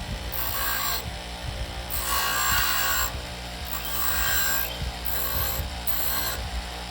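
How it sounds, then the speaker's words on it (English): A handheld grinder works on soft brass castings to remove the nubs and casting line. It gives a harsh, close grinding that comes in several surges, swelling and easing over a few seconds, with no talk. "So to get rid of that, I've got this grinder."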